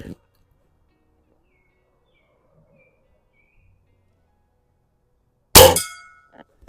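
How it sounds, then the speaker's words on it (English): A .177 airgun pellet from a Benjamin Sheridan Sterling HR81 underlever spring rifle strikes a steel gong target with one sharp, loud metallic clang that rings and fades, after a long quiet stretch at an outdoor range. "let's hit the gong"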